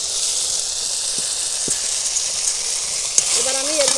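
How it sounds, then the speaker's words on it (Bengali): Masala spices fry in oil for chicken curry, giving a steady, close sizzling hiss that runs throughout, with a few faint clinks and scraping stirs toward the end. "মশলাটা ভালো করে আমি কষিয়ে নিয়েছি"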